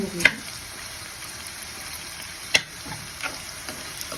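Slit green chillies frying in a pan alongside chayote, a faint steady sizzle with a few sharp clicks of a utensil against the pan.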